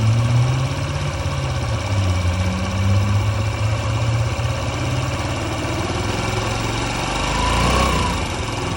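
Engine of a 2003 Honda Ruckus scooter idling just after startup, a steady, loud, buzzing small-engine putter with slight waver, close by and with no talking.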